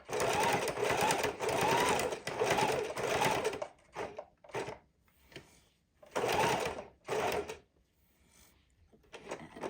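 A home sewing machine stitches a fidget quilt in two loud bursts of rapid running, each followed by short pauses and a few quick clicks and handling taps as the fabric is pivoted and adjusted.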